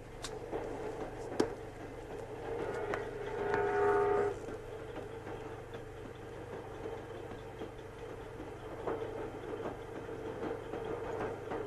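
A low train rumble and hum hold steady in the background, with a brief rising horn-like tone and a few knocks along the way, from a 1971 Soviet film.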